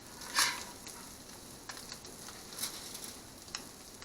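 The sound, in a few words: crab cakes sizzling as they sear in a pan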